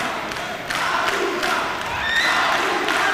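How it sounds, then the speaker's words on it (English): An arena crowd roars and chants in support of a player at the men's singles table tennis final of the ITTF Africa Cup 2024, a loud, sustained wash of cheering voices swelling throughout. "very special moment by the crowd cheering Aruna, the giant of Africa"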